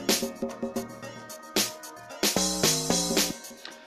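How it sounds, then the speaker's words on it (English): Amapiano log drum patch built in Caustic 3, playing a punchy, bouncy sequence of deep pitched bass hits with a short melodic run, loud and alone without any voice. "So I have my last log drum, so they sound like this."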